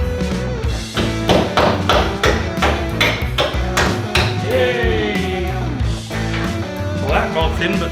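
Rapid metallic hammer strikes drive wheel bolts on a Torana car, a dense run of sharp, ringing blows close by, with voices talking over the hammering.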